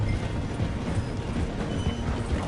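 A train in Red Dead Redemption 2 slows as it runs through a station, giving a steady low rumble and rattle with rhythmic clopping, likely from horses riding alongside.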